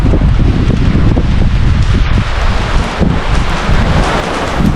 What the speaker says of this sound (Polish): A deszczyk nam pada.